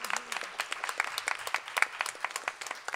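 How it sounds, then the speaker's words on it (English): An audience at a public forum on police crimes applauds steadily, a dense run of overlapping claps that stays fairly even in loudness for the whole stretch, with no talk over it. "give him a round of applause"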